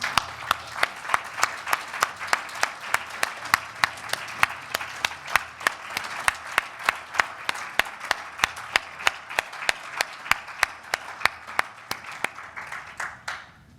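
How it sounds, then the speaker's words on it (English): Audience at a care home forum applauds steadily for about fourteen seconds, with sharp individual claps standing out in a regular rhythm over a softer bed of clapping that thins slightly at the end. "Please help me to give a round of applause."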